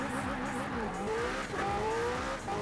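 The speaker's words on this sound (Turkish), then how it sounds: "McLaren Senna aldığımdan beri bu arabayı yükselttim diye hızı göreceksiniz şimdi yani." A McLaren Senna in Forza Horizon 4 races along with a high engine note rising and shifting through gears, steady and loud, with tire noise beneath.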